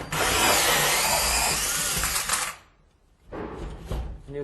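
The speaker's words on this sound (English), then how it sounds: "So we've got to drill a new one there and we have to repair this." A power drill bores a new hole in a drywall ceiling for a patch repair, a loud close whirring grind for about two and a half seconds, a brief pause, then another burst of drilling.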